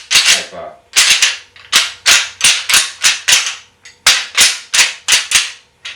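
Deer antlers rattled together to call a buck during the rut, giving repeated sharp, snappy clacks in short bursts with brief pauses between them, loud and close with no talking.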